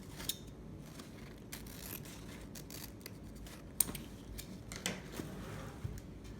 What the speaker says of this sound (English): I like to trim mine at a slant.